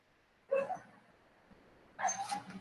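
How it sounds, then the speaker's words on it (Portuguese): A pet dog makes two short bursts of barking and whimpering yelps, fairly close and loud, with a quiet pause between them. "Deixa eu ver se meu cachorro entra aqui, ele tá fazendo zoada."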